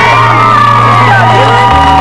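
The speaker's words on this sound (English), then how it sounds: "and cheers from the crowd." A loud football-game crowd cheers and whoops continuously at close range, with shouts and yells layered over a steady low hum.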